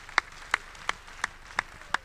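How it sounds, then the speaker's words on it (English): Audience clapping at a university convocation ceremony, heard as six sharp, evenly spaced claps in a steady rhythm against a quiet background. "Once more, give me a rousing applause."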